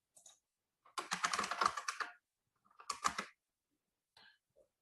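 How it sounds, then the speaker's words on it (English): Keys clatter on a computer keyboard as a target name is typed into a search field, a quick burst of close keystrokes followed by a shorter second burst and a few isolated taps in a quiet room. "I'm going to type in its name."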